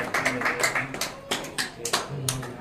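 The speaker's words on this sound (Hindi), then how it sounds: "बहुत सुंदर भाई, तालियां हो जाए" Applause at a teachers' literary poetry gathering during a Holi celebration, a few seconds of scattered, uneven clapping from a small crowd, close and moderately loud, with some talk mixed in.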